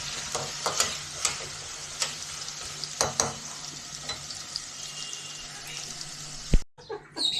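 Cumin and chili tempering sizzling in hot oil for a Bengali prawn and banana flower dish, a steady crackling hiss with sharp pops and spoon taps, with a rooster or hen clucking faintly in the background.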